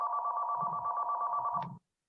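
A telephone rings during an online meeting, a steady electronic trill repeating in quick pulses for nearly two seconds, loud and close, then cutting off abruptly into silence.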